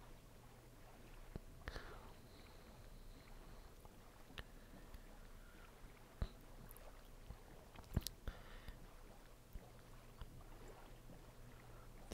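Oars splashing as a boat is rowed across water in the Minecraft video game, faint soft swishes with scattered clicks and thumps over a quiet background.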